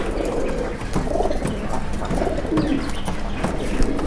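Pigeons at a pigeon farm in Keraniganj, Dhaka, coo in soft repeated low calls over a busy background murmur.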